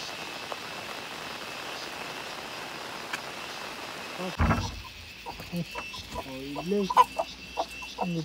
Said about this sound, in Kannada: ಎಷ್ಟು ಕೋಳಿಗಳಿದೆ ಇಲ್ಲಿ ನಾಟಿ ಕೋಳಿಗಳಿದೆ ನೋಡಿ